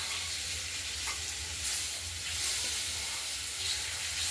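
Potato pieces fry with salt and turmeric in hot oil, giving a steady close-up sizzle and hiss throughout with faint stirring, and no voices.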